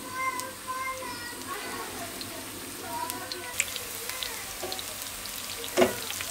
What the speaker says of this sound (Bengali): মেখে নেওয়া ফুলকপির পাকোড়া এখন ডুবা তেলে ভেজে দিতে হবে।